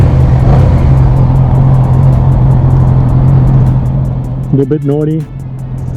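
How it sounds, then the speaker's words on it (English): A 2013 Yamaha R6 motorcycle engine running close on a first ride, a loud steady low drone throughout, with someone speaking briefly over it near the end. "first ride, 2013 R6, should be fun"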